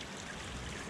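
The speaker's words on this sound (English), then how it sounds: "I've got a little creek coming through." A small creek flowing past a large rock on a hike near Catawba Falls, North Carolina, giving a steady, close rushing and trickling of water with no talk over it.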